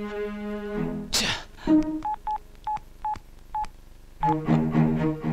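Touch-tone telephone dialing from a Tamil film scene: about eight short, evenly spaced keypad beeps in a clear burst, set between stretches of music.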